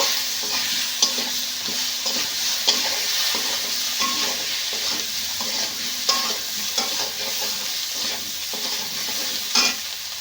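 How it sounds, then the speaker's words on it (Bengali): Ginger paste with ground cumin and coriander being sautéed in oil for a cabbage and chickpea dish, a steady close sizzle with repeated spoon scrapes and stirring knocks, no voices. "মশলাগুলো বেশ ভালো করে কষে নেব"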